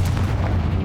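A Confringo spell blast in Hogwarts Legacy lands as a short, deep, rumbling boom, loud and close, with no speech over it.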